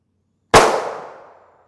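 Single Glock 19 Gen 4 pistol shot fired at body armor, a sharp loud crack after silence with a fading echo tail.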